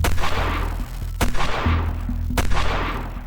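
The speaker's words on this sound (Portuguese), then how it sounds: "E então, 3 tiros." Three sharp gunshots ring out, spaced about a second apart, over a low rumbling background, recreating the JFK assassination.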